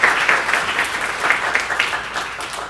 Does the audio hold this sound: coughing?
no